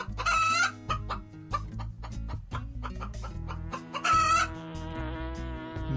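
Domestic farm chicken clucking loudly and close, in repeated short bursts over steady background music.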